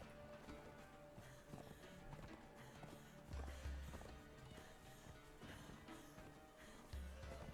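A horse's hooves clip-clop steadily in the video game Conan Exiles, a busy rhythmic patter of footfalls under ambient game sound, moderately close.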